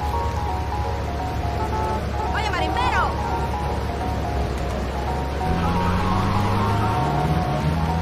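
In GTA Vice City Definitive Edition, a police siren briefly wails in quick rising and falling sweeps partway through. A steady low ambient rumble runs underneath, and a fainter wailing tone follows later.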